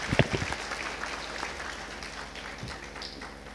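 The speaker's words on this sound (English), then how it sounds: "A huge round of applause once again for Shri Gadkari." An audience at a government inauguration ceremony applauds steadily at moderate volume, with a few louder claps at the start and a low hum underneath.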